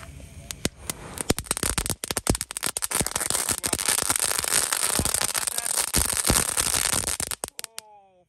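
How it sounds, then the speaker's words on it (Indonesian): Two packs of dino egg firecrackers (kretekan) set off together on a Ramadan night burst in a dense, rapid crackling barrage of sharp pops, loud and close, thinning out before a sudden stop. "yang pertama kita nyalakan adalah mercon telur dino atau kretekan"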